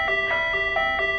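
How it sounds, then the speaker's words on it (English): A house doorbell rings out its chime, a bright repeating ding-dong pattern of clear bell tones, close and fairly loud with nothing else over it. "Right, what have you done to my doorbell?"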